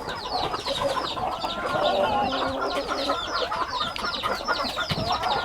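Aseel chickens clucking in a flock, a busy overlapping chorus of clucks and short calls from several birds nearby, continuous and moderately loud.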